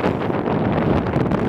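Steady wind buffeting outdoors on a late-November evening in the Koktebel valley near the Karadag volcano in Crimea, a continuous broadband rush close to the microphone with no speech.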